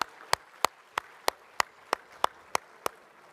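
Slow, evenly spaced single claps, about ten sharp hits in a steady rhythm at a members' gathering of the CREDAI NATCON 2022 real estate convention in Abu Dhabi, fairly faint and clear against a quiet background.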